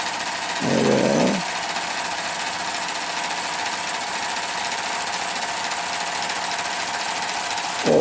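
A model steam engine runs on compressed air at about 15 psi from an airbrush compressor, fed through a copper manifold, giving a steady, loud mechanical hum and hiss throughout, with a brief higher whine near the start.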